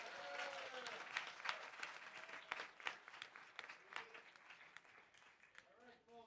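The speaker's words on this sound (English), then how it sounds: "Another round of applause for the panelists." Audience applause for a policy forum's panelists fills a conference hall, steady clapping throughout with voices talking over it.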